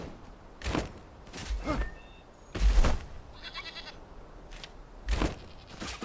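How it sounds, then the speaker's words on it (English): Goats in the survival game Enshrouded bleat in a farm pen, several loud calls spread across the moment with short pauses between them, over a quiet ambient background. "Let me just check in on the goats"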